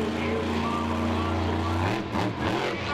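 A fuel-injected mud racing car's engine at a mud race, a low droning rumble that holds steady and then wavers as the revs change near the end.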